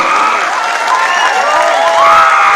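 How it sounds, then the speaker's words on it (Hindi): Loud audience applause mixed with cheering, whoops and raised voices from a crowd, sustained throughout the short burst and swelling slightly near the end. "मैं चाहूंगी कि एक बार दोनों हाथ ऊपर करके जोरदार तालियां हो जाए"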